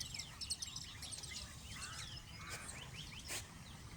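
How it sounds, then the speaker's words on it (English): Pied crows call outdoors in the distance, with faint, scattered bird chirps over soft background ambience. "Patched pied crowbird sounds."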